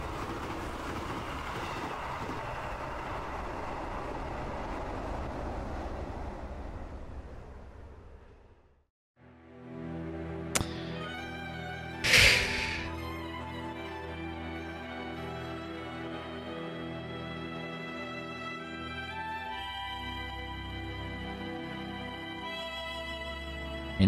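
A train passing a railroad crossing, a steady rumble giving way to clattering wheels and rail noise, with a sharp squeal midway and a long sustained rolling sound close by, no talk.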